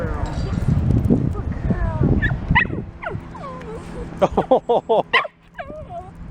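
A dog on a leash whimpers and gives a run of short, high yips, several sharp calls in quick succession near the end, with a person's voice and low rustling underneath.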